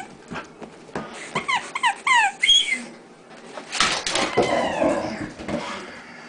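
A puppy whimpers in a run of short, high, squeaky cries, then whines and yelps more busily close by, with no talk.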